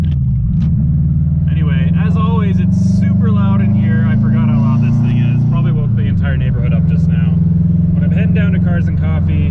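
A loud JDM GC8 Subaru's engine idling and revving inside the car, a heavy steady drone with a dip and recovery midway, while someone talks over it at close range.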